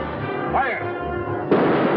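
Cannon fire in a 1945 period film: a single heavy boom lands midway through, following a brief burst of earlier noise, with a shouted voice heard just before the blast.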